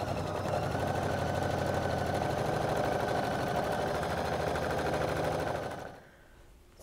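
A sewing machine stitches quilt pieces, a steady fast mechanical whir with rapid needle chatter running loud and close for about six seconds before stopping abruptly.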